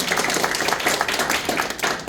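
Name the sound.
audience round of applause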